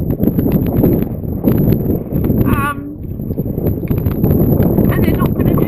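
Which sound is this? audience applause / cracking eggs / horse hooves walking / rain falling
horse hooves walking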